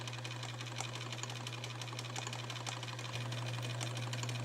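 A sewing machine stitches in a steady, fast mechanical whir with a constant motor hum and rapid needle ticking. It sounds close and runs without pause, the pitch shifting slightly late on, with no voices.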